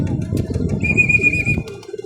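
Low pigeon-like cooing rumbles close by, with a thin high whistle briefly sounding over it, from a racing pigeon.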